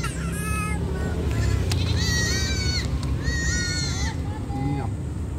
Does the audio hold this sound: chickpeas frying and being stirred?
no